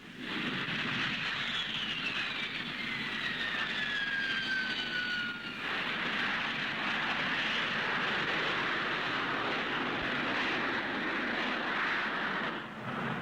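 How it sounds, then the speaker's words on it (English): A vertical take-off jet powered by a Bristol Siddeley Pegasus engine gives a loud, steady roar with a high whine that slides downward, then settles into a sustained broadband rush, heard alone. "Powered by a Bristol Siddeley Pegasus BS-53 engine, its swiveling jet nozzles enable it to use the shortest airstrips, rise and land vertically, and hover."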